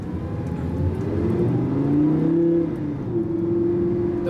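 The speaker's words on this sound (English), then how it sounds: "once these valves open and the car becomes a lot more shouty and sporty" A Lamborghini Gallardo LP560-4 in sport mode revs with its exhaust valves opening, the engine note climbing in pitch and swelling louder, then settling into a sustained high drone heard from inside the car.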